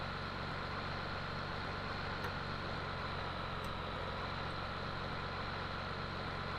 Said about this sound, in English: purring along nicely, this tractor.